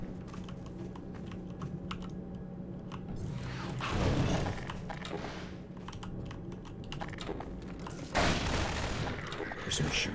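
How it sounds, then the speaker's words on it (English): Bursts of gunfire ring out across a Half-Life 2 battlefield: scattered, fairly distant shots and clattering volleys rise and fall over a steady low background hum. "There's someone shooting at me."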